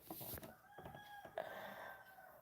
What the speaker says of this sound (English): I hear the roosters crowing,